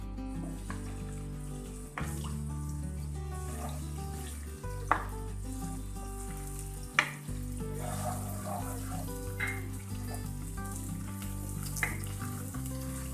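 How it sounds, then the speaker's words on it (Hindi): Garlic and ginger fry in oil in a karahi, giving a moderate sizzle beneath scraping stirs, with a few sharp metal knocks against the pan and a low background hum. "लहसुन अदरक को यहाँ से थोड़ा सा भून लेंगे"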